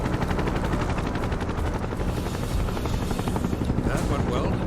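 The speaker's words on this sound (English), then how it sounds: "Hopefully none of these helicopters see me." Helicopters in Final Fantasy VII Rebirth, near Kalm, give a steady, loud rotor drone under dense game sound with bursts resembling gunfire, continuous throughout.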